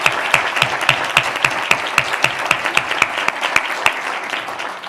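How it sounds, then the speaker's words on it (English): Audience at a Humble ISD school board meeting giving a round of applause: steady, moderately close clapping from a modest crowd with distinct individual claps, fading slightly toward the end. "if everybody could just join me in giving them just a little round of applause for that work"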